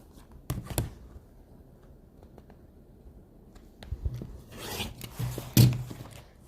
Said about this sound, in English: Lay the ruler on there from point to point. Rotary cut that open.